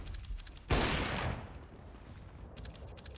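A USP pistol fired in a Counter-Strike match, one sharp close shot followed by a brief rumbling tail, with faint ticking game sounds around it.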